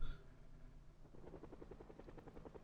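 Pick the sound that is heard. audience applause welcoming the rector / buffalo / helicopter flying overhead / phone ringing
helicopter flying overhead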